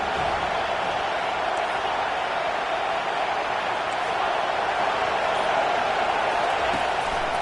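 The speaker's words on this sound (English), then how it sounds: "Decibels rising as the crowd gets behind this defense on 3rd down." A college football stadium crowd at a Baylor game roars on third down, a dense, loud, sustained wash of cheering that swells gradually, with no clear individual voices.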